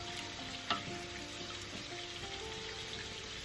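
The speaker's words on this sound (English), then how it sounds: "Let me give it a little stir right here." Beans in water and gravy mix being stirred in a pot, with a soft bubbling simmer throughout and one brief clink of the spoon early on.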